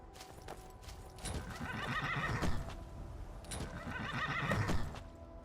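Two loud, close horse whinnies in the video game Skyrim a few seconds apart, each a rising and falling neigh, with hoof clopping underneath.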